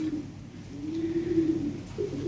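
Lahori Sirazi pigeons coo nearby in low, rolling calls, several drawn-out notes one after another, clear and alone.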